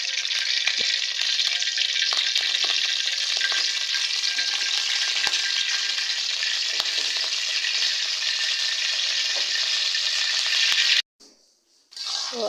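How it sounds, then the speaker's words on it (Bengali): Oil sizzling in a wok, a loud, steady hiss with scattered crackles and pops that runs unbroken for about eleven seconds, then cuts off abruptly into quiet before faintly returning. "এই যে আমি কড়াইতে তেল দিয়ে দিলাম"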